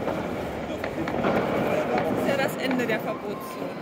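Firecrackers pop and crackle amid a noisy street crowd on New Year's Eve in Berlin, near a no-fireworks zone, with people talking throughout and sharp bursts rising above the chatter.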